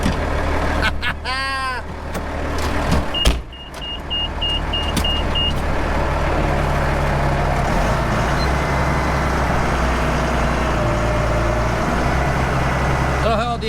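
A tractor cab on a dairy farm, with a steady engine drone and low rumble running throughout, a brief mechanical whirr and clicks early on, and someone talking over the engine noise.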